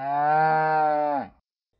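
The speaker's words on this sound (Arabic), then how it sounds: "بقرة" A cow lets out one long, steady moo, loud and close, holding for about a second before stopping abruptly into silence.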